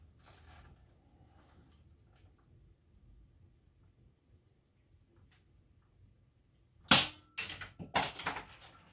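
NBK K-SR01 toy sniper robot firing indoors: quiet mechanical ticking and faint clicks, then a sudden sharp snap followed by a quick burst of rattling clatters.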